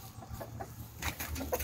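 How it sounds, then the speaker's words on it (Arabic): Brahma chicken, a large meat-and-egg breed, clucking on a home farm: a few short, soft clucks near the end over a steady low background hum. "هذا دجاج بسموه البراهما، دجاج حلو مرتب"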